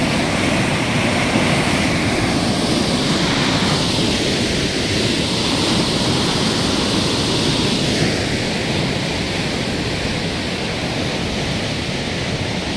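Water from the Chambal canal rushes down a sloped concrete chute into a tunnel, a loud, steady, broadband roar that fills the whole stretch without pause or speech.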